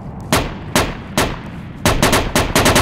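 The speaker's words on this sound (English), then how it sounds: "Enemy pistol." Enemy pistol fire in the Project Reality video game's Falklands battle at Goose Green: about ten sharp, loud, close shots, first spaced singly and then in a quicker burst of rapid reports.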